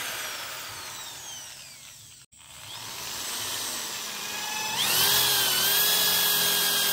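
An electric drill with a 10 mm bit bores into a heavy ulin hardwood beam, running off a small off-grid solar power setup; a steady whine cuts out briefly, then restarts and rises louder and higher as the bit bites in.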